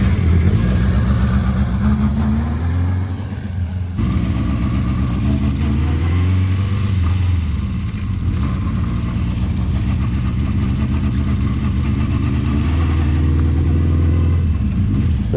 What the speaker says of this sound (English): Engine sounds sweet, doesn't it?